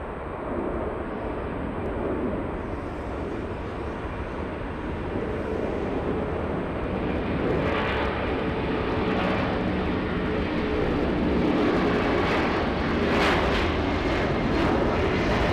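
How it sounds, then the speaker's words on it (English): A Boeing 767 jet roars loud and steady through its takeoff roll at Los Angeles, the broad engine rumble filling the whole stretch, heard without talk. "the 767 beginning its takeoff roll."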